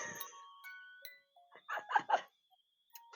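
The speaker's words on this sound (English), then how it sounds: "Yes, I heard your doorbell." A doorbell chimes faintly in a quiet room, a few short ding-dong tones spread across a few seconds, distant and soft.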